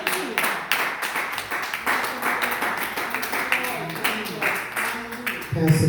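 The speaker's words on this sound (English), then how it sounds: "Can we give God a hand clap?" Congregation clapping hands together at a church service, a steady dense patter of many palms filling the room, fairly loud and continuous, with voices mixed in beneath the claps.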